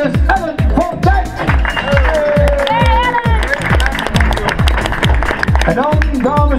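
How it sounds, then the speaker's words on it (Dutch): An outdoor audience at a women's cycling stage podium ceremony in Winschoten claps in steady applause while music with a regular beat plays and an announcer speaks over it. "uw applaus voor Special Life Lame"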